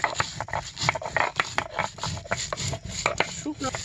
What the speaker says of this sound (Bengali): এখন আমি একে একে বেটে নিব।